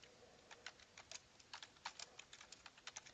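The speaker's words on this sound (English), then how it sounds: "I'm going to type," Quick, light keystrokes on a computer keyboard, a steady irregular patter of clicks, close and quiet with no voices.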